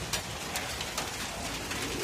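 Soft cooing of pigeons outdoors over a steady hiss of background noise, with a few faint calls rising above it.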